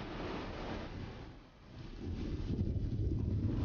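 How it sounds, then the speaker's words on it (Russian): Strong wind over the Greek coast roars as a steady broadband rush, dipping briefly halfway through before swelling again, with no voices. "Разница давлений рождает сильные ветры."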